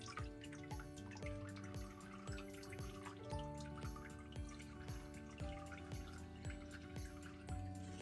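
Water drips back into a vat from a hand papermaking mould during a workshop on 17th-century paper technique. The quick, irregular patter of close drips goes on throughout over a faint tonal background.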